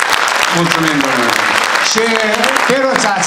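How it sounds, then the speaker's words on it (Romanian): An audience applauds at an Aromanian community stage event, with steady, dense clapping that continues throughout while someone talks over it into a microphone. "Aplauze!"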